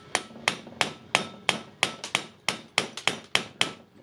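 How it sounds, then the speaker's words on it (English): A hammer strikes a metal punch again and again on a Makita DHP482 drill's gearbox held in a vise, about a dozen sharp, ringing metallic blows at a steady, fairly quick pace, close and loud, with no talk. "Taking the most loved tool in the workshop, the hammer, and"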